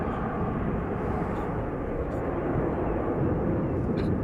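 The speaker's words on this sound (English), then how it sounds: "This must be KLM Flight 1281, the Embraer 190 outbound to Edinburgh." A KLM Embraer 190 departs along a runway at Schiphol Airport, bound for Edinburgh. A steady, broad jet roar holds evenly for the whole stretch, heard from some distance with no voices over it.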